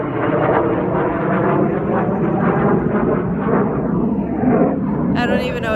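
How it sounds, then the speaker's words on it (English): A jet aircraft roars overhead above a zone 8a home garden, a loud continuous rumble that fills the whole stretch and fades near the end, with speech mixed in. "I've become numb to the jet noise"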